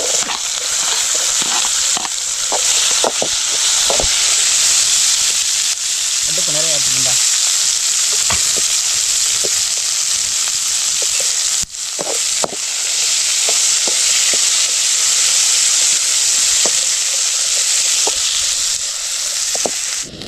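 Onions sautéing in a pan outdoors in a forest make a loud, continuous hiss of frying, broken by occasional stirring scrapes and a brief dip before the sizzle resumes.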